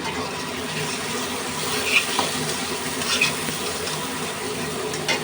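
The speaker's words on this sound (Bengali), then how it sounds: "এবার আমি রসুন আর কাঁচামরিচ দিয়ে দিলাম" Garlic and green chili sizzle in a pan with fried onions and shrimp, giving a steady, close hiss with a few small pops and stirring clinks throughout. No voices are heard.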